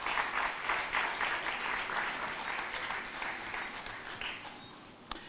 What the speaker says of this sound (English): can we get another round of applause for all the worthy winners tonight?